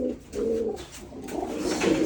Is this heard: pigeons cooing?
yes